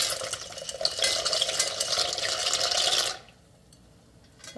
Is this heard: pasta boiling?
yes